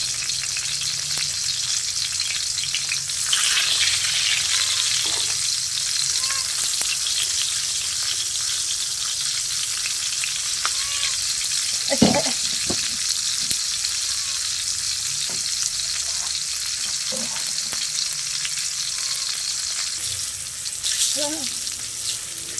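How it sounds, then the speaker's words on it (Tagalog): Dried fish (tuyo) frying in a pan, a steady bright sizzle running throughout with a few soft clinks and stirring knocks, alone with no voices. "tuyo lang yung ating lulutuin"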